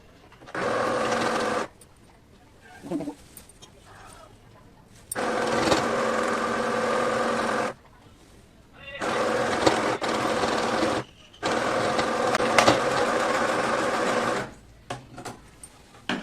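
A sewing machine stitches a partywear umbrella lehenga in four long runs of fast, steady whirring, loud and close, separated by short pauses with faint handling noises.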